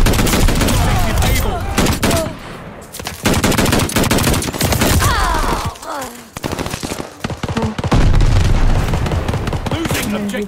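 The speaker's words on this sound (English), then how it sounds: "Grenade." Call of Duty: Vanguard multiplayer on the Shipment map: loud, dense automatic gunfire rattles almost nonstop, with heavy booms that fit a grenade blast, and brief gaps where the shooting drops away.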